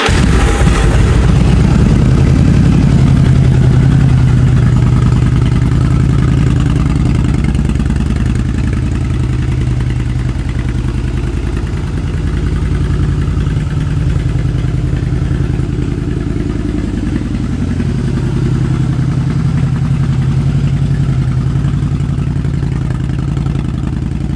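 A Yamaha V-Star 1100 motorcycle engine idles close by, a loud, steady low rumble that holds evenly throughout with no voices.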